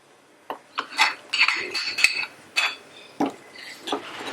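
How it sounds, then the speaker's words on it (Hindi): A pan being washed in a home kitchen, with scattered metallic clinks, knocks and scrapes in an irregular rhythm, close and moderately loud, with no talking. "ये पैन को भी वॉश कर लेंगे उससे।"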